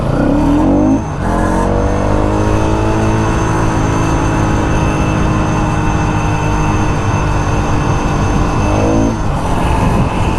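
A Yamaha R15 V4 and a Pulsar NS200 motorcycle drag race, with engines droning loud and steady at high revs, pitch climbing through the run, and no talk over the noise.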